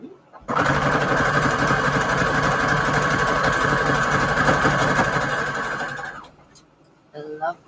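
A sewing machine runs steadily for about six seconds stitching decorative stitch 50 to make fabric ruffles, a close, even mechanical whir that stops abruptly, followed by a brief voice.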